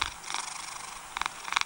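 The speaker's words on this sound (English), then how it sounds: "it is purring of a kitten" Soft, close kitten purr, a quiet continuous rumbling with a few slightly louder breathy pulses near the end, heard alone.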